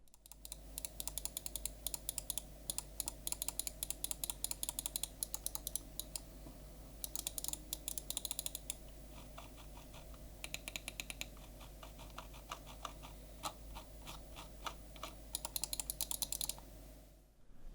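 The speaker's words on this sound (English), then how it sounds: "here's how the mouse sounds" A long run of crisp, quick computer mouse clicks, close and dry, coming in dense bursts with short pauses between them.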